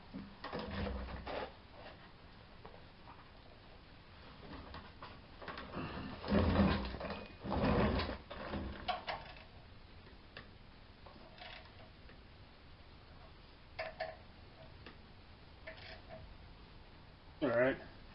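A hand ratchet tightens front brake caliper bolts on a 1995 Ford F-150, making bursts of close, quiet clicking and rattling between stretches of soft workshop noise, with someone talking now and then.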